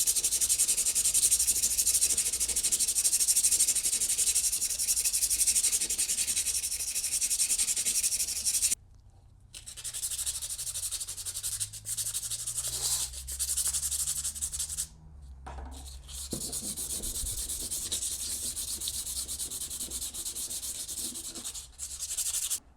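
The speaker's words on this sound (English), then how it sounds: "that was just taking some basic medium grit sandpaper, and then I went back with a little finer grit sandpaper to try and clean it up a little bit" Sandpaper rubs rust off a golf club ferrule, first medium grit then finer grit, in steady close scratching strokes with a few brief pauses between passes, no talking.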